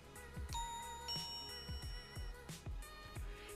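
A Neo CoolCam siren's soft doorbell chime rings a couple of bright tones that hang and fade, faint against a steady background hum.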